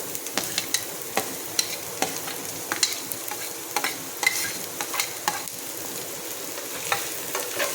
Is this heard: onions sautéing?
yes